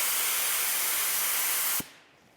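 A spray gun sprays epoxy primer in a fan pattern test for a Duramax truck build, giving a loud, steady, close hiss that cuts off abruptly near the end.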